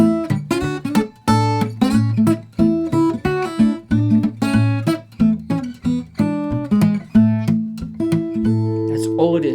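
Fingerstyle guitar picks out the A section of a song, clear plucked notes and bass tones in a bouncy, steady rhythm, played solo without talk.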